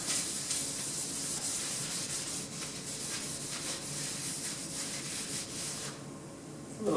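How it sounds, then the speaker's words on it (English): A cloth wipes JX101 wax and grease remover across the body of a square-body K5 Blazer, giving a steady, close, even rubbing hiss that runs throughout and ends briefly at the close. "Using the JX101 wax and grease remover before I put anything down here."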